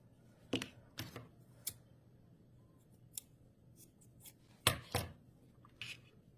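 Scissors trim a yarn end on a crocheted hair tie headband, heard as a few sharp, close snips spread irregularly over a quiet background, with a double snip near the middle.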